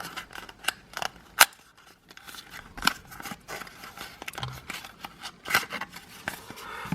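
Packaging of a OneMoCast Touch Me Up hook sharpener being carefully opened, with close, irregular crisp snips and crinkles separated by short quiet gaps.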